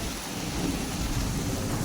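Thunder rumbles low and steady beneath a dense wash of falling rain at a Punjabi home during a storm, with no voices.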